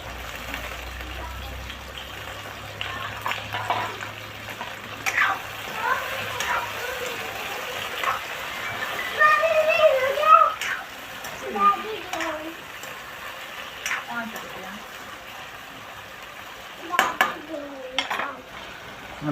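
Potatoes sizzle softly in a hot pan while a spoon stirs and scrapes in uneven bursts, fairly quiet beneath someone talking and a voice.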